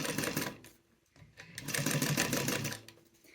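A sewing machine stitches a beginner tote bag with backstitching, running in two bursts of rapid, even mechanical chatter separated by a short pause, heard up close.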